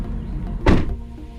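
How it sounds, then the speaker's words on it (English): A single solid car door thunk on a stock 2012 Mustang GT, close by, against a low steady background rumble. "Door being shut"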